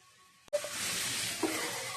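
Green beans with homemade masala hit hot oil and burst into a sudden, loud sizzle after a near-silent start. The frying hiss then holds steadily up close, with a soft stir or two.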